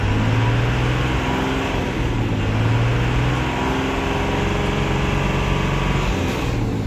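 A Tata BS4 Lucas TVS alternator runs on a test bench, giving a steady, loud mechanical whir and hum with a low drone that holds constant for several seconds, with no talk.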